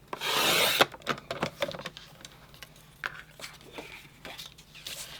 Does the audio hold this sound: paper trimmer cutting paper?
yes